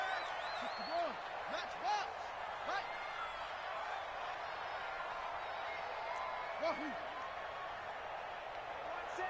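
Stadium crowd murmur from a video game football broadcast, a steady roar filling the background at moderate level with occasional swells, under faint voices and whistle-like tones.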